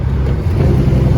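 A semi truck's engine brake produces a brief, loud, low rumbling drone up close, steady with a slight swell toward the end.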